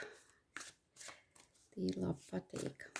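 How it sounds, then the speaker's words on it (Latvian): Playing cards are shuffled up close in a series of quick riffling bursts, soft at first and then louder, with a voice talking over them. "Kārtīgi samaisīšu kārtis."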